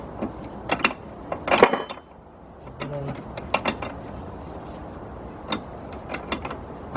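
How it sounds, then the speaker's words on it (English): A wrench works the radiator bolts on a 1999 Ford Expedition, a series of close metallic ratcheting clicks and taps in uneven bursts, with a brief rattling buzz midway. "once you pop them loose with the 5/8, to make it easier, you might want to just get a regular wrench"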